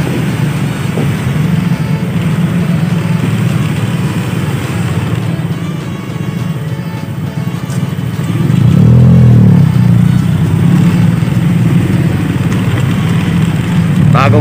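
A Suzuki Raider 150 motorcycle engine runs close by with a steady buzzing drone, then swells into a louder rev about two-thirds of the way through, holding at higher intensity before easing slightly.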